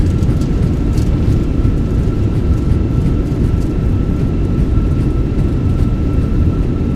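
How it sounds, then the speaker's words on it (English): Inside the Fenix A320 flight simulator game, the airliner decelerates on landing with thrust reversers deployed, a loud, steady low engine roar holding throughout, with a faint tone running under it. "Goes down gently. Reversers are out. Decelerating."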